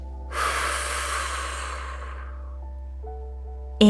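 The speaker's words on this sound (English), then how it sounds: "Let's take 2 big, slow breaths together." One long, slow breath is drawn and released close to the microphone, a soft airy rush that gently fades out, over a steady low hum.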